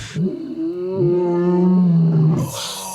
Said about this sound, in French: faire sa crinière, tu se mettre beau pour la caméra, puis là, il pousse un rugissement